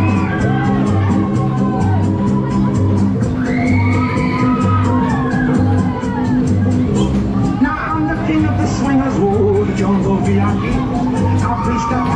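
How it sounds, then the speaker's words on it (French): A concert crowd roars with cheers, whoops and shouts over pounding music with a steady bass beat, loud and continuous throughout, with voices yelling in the mix. "Allez, faites du bruit, je ne vous entends plus, j'aimerais vous entendre crier."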